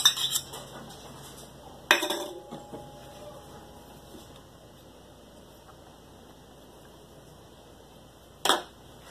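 A spoon clinking against a bowl while mixing sugar, salt and margarine for homemade bread, with a few sharp scattered clinks and long quiet stretches between them, and no voices.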